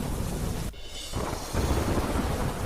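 Thunderstorm with heavy rain falling through the late night at Ambaji, a steady loud wash of rain with a deep rumbling of thunder and a brief dip in the downpour partway through.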